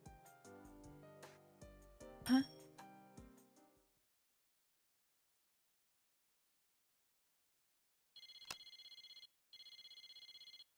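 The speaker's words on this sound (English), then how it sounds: "Oh, even the phone call thing is the same." A phone rings in the fighting game Persona 4 Arena Ultimax, two bursts of electronic ringtone after a stretch of silence, following a short passage of music at the start.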